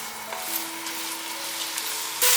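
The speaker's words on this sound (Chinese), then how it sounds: "油热了之后，把茄子放进来，把茄子翻炒一下，过油，让它煎一煎。" Eggplant frying and being stir-fried in hot oil in a pan: a steady, close sizzle and crackle holds through the clip, ending in a brief louder burst of spatter.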